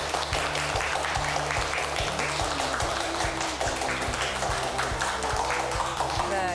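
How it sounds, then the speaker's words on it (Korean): An audience claps steadily to welcome a professor onto a lecture stage for a Korean regional broadcast, and a backing music track plays underneath the whole time. "여러분 박수 부탁드립니다."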